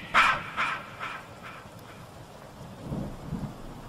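A thunderstorm rumbles outside with steady rain, low rolling thunder rising near the end over a constant hiss, heard from indoors.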